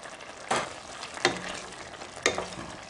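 Seafood pasta sauce with cornstarch bubbling in a pan, a soft steady simmer broken by three sharp scraping stirs of a utensil against the pan, fairly quiet.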